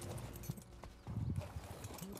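Horse hooves clip-clop in ARK Survival Ascended, a steady run of hoof strikes at moderate volume, mixed in with other game sounds.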